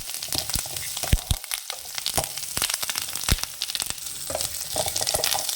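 Brinjal frying in hot oil, a close, steady sizzle crowded with crackles and sharp pops, stirred now and then.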